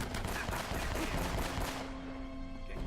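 Rapid gunfire from the video game Uncharted: Drake's Fortune crackles in a dense, overlapping barrage for about two seconds, then thins out into a quieter, lingering tail.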